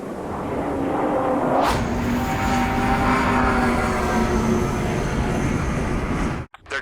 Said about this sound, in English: Aircraft approaching at high speed.